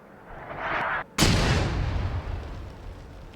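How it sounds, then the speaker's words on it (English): Artillery fire and explosions in the video game Arma 3: a hissing incoming whoosh cuts off, then a loud close blast hits and rumbles on in a long fading roar, with no talk. "Take cover. Artillery inbound."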